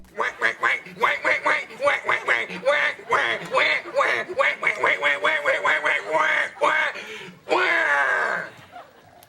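A man imitates duck quacks in a bathtub comedy sketch, producing a long, rapid string of loud nasal quacks, close and alone, ending in one drawn-out quack.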